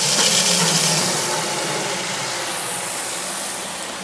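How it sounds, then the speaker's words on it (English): Water from a hose filling a rinse bucket for a car wash: a steady rushing hiss close by, slowly easing in loudness as the bucket fills, with no talking. "All right, let's fill up our rinse bucket."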